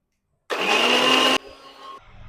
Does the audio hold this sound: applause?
no